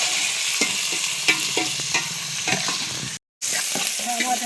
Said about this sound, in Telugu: టమాటాలు, ఎర్రగడ్డలు వేసేసి బాగా వాష్ చేసుకుంటున్నాం